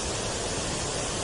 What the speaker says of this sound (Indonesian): duduk di tepi air terjun dan mendengarkan suara alaminya